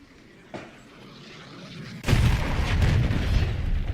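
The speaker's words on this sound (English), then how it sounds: "Hostile cruise missile incoming" A hostile cruise missile strikes in Call of Duty Modern Warfare III, a sharp distant pop followed by a heavy booming explosion that rolls into a sustained loud rumble.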